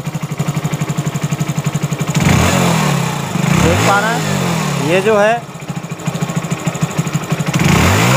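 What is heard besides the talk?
Hero HF Deluxe BS6 motorcycle engine revving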